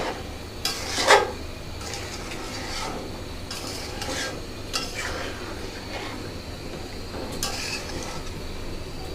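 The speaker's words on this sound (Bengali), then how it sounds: "এখন এই চিকেন ভালোভাবে আমি কষাতে থাকব।" Chicken coated in nut paste and yogurt is stirred in a pan for a biryani, with a sharp metallic scrape early on and softer spoon-against-pan stirring strokes following, fairly quiet with no talking.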